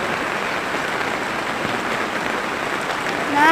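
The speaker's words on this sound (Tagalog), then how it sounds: "ulan po sa Butong City. Pagkakalakas naman eh." Heavy rain in Butong City pours steadily in a dense, hissing roar, constant and loud, swelling slightly near the end.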